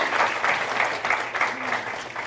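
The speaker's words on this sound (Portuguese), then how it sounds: "Vamos dar uma salva de palmas para nossas crianças mais uma vez?" A church congregation claps for the children at a Sunday service, a dense, steady wash of applause filling the room without a break.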